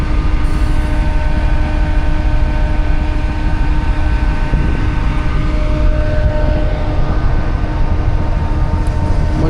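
A steady, loud rumble fills the air on board the Pakistan Business Express running from Karachi to Lahore at Multan, pulled by locomotive GU 49014, with a continuous mechanical drone and hum and no voices.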